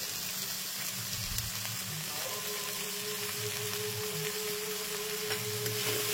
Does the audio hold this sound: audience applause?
no